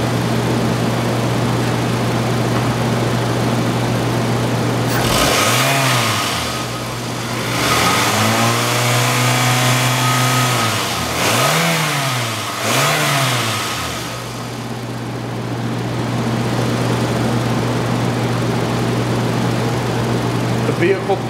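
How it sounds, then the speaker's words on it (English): A 2005 Toyota Camry engine with 77,000 miles idles, then is revved several times, the pitch rising and falling in repeated swells before settling back to a steady idle with a constant hum. "we're going to rev the engine a little bit just so you can hear exactly how the motor sounds"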